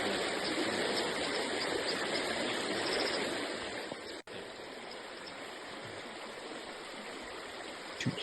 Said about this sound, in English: Too much nature sound into the babbling brook.